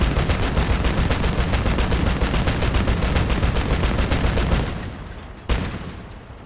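Starfall rounds from a Crossout vehicle battle pound a Cyclone in a dense, rapid stream of explosive impacts, loud and continuous for several seconds before stopping abruptly, followed by one last sharp blast and a fading tail.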